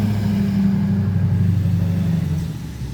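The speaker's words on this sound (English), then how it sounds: "There's a lot of big trucks out here in the country, yee-haw. Anyway, there was one driving by." A big truck passes on a country road, its loud, steady low engine rumble holding for a few seconds and then easing slightly as it moves on.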